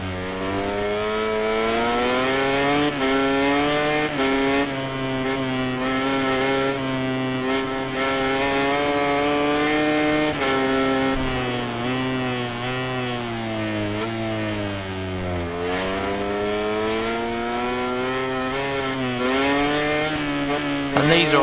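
MotoGP racing bikes in the video game MotoGP 19 howl continuously at high revs, pitch rising and dipping through gear changes and corners, loud and close with no talk.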